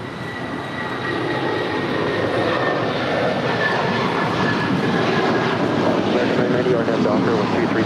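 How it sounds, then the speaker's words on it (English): A Boeing 757-300 jet on an LAX runway gives a loud, steady roar that swells within the first second and then holds constant, with a faint whine riding on top. "It's a 757-300, originally delivered to Continental Airlines in September of 2001."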